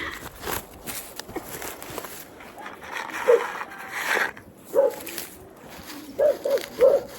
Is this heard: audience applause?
no